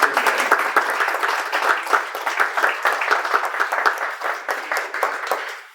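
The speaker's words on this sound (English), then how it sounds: "could we give a round of applause for Angela Green" A museum audience at an exhibition opening gives a round of applause, dense, steady clapping heard close and loud, staying even before tapering off at the end.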